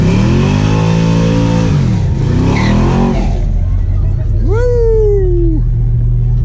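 A car revs hard and accelerates at a street cruise car show, a loud engine roar rising and falling, then a second rising whine, with someone talking over it.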